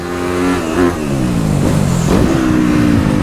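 A dirt bike engine on a motocross track roars loud and close, its pitch rising and falling through quick revs as the rider works the throttle over jumps, with wind buffeting over the sound.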